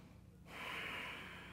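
A single deep inhalation during a yoga hamstring stretch, starting softly then swelling into a long, close, airy breath that holds steady to the end, with no talking.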